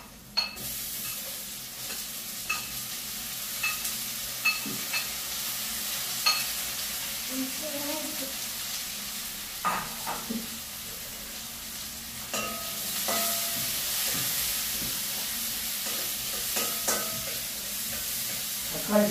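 Sliced onions and green chillies sautéing in a pan, a soft continuous sizzle with scattered clicks and scrapes of stirring throughout, no talking.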